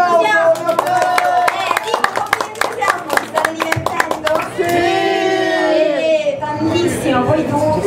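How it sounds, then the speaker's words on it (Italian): Audience at a comic convention stage show clapping in a brief burst of loud, close applause amid crowd chatter, followed by someone speaking and people talking and cheering. "No, un po' più applauso."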